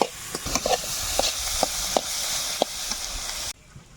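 Malabar spinach seeds frying in a pan give a steady close sizzle broken by brief stirring clicks and scrapes, cutting off abruptly near the end.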